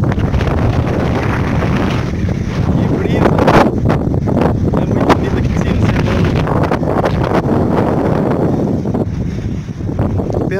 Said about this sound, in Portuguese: Olha o vento que daqui,